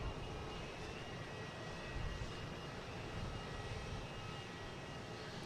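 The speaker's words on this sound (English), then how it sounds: "We got a bunch of heavy Deltas coming in" Heavy Delta jet airliners arriving at Boston Logan, heard as a faint, steady distant engine roar with no talk.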